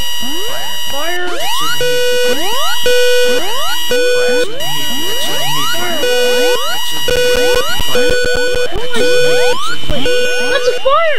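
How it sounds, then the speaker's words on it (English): A building fire alarm sounds during a test: rapid rising electronic whoop sweeps repeat over steady tonal beeps, loud and continuous throughout, with a faint voice now and then underneath. "Oh, those alarms are starting."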